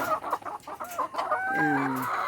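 A hen that has just laid an egg clucks in short bursts, then lets out a drawn-out, rising cackle, close by, with no talking.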